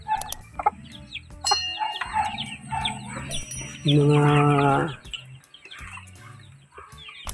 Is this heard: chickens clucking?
yes